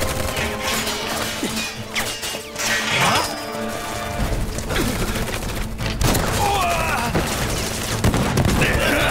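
Rapid gunfire in the video game Final Fantasy VII Remake Intergrade crackles in dense bursts, mixed with crashes and clanking, while German-dubbed game voices call out amid the steady noisy action.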